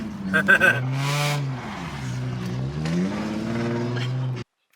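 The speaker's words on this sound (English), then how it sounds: "Try to do a donut in the snow." A Mini Cooper doing donuts in the snow, its engine revving and whining up and down in pitch as the tires spin, loud and close before cutting off abruptly.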